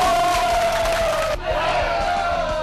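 A crowd cheers and whoops in a small restaurant as a breakdance-qualifying contestant walks in, a loud, continuous burst of voices with a brief dip partway through.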